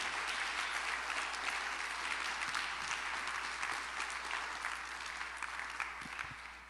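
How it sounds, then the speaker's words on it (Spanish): A church congregation applauds steadily, a dense wash of clapping that carries on for several seconds before starting to thin. "Démosle un aplauso a ese"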